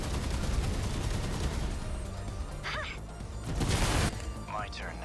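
Gunfire in the sci-fi video game 13 Sentinels: Aegis Rim, a dense continuous rattle of rapid shots mixed with game effects and chirping electronic tones, one louder burst of fire near the end.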